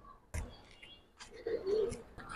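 A pet pigeon gives soft, low coos in a quiet room, faint and brief, mixed with a few light knocks and rustles.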